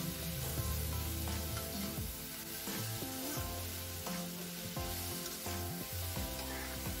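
Steady sizzling from a hot pan as chicken and vegetables are stir-fried, stirred and scraped, a continuous frying hiss with irregular clattering strokes throughout.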